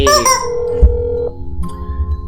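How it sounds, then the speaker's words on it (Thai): A phone rings inside the horror game That's Not My Neighbor, a short electronic ringtone with clear tonal beeps, loud and close, and a voice speaks briefly over it. "รับโทรศัพท์ก่อนนะคะ"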